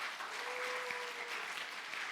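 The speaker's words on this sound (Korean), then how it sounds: "박수 쳐도 됩니다" A church congregation at a Sunday service claps together, a dense, even patter of applause lasting a couple of seconds at moderate distance.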